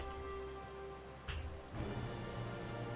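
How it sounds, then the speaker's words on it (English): Rain falling in Dalaran in the World of Warcraft video game, a soft steady hiss that swells briefly about midway, heard alone at low volume. "It should not rain in Dalaran."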